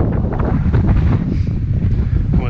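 Wind buffets the microphone on a trail at Twin Rocks Mountain in the Wichita Mountains, a loud continuous low rumble with gusty swells throughout, no voices.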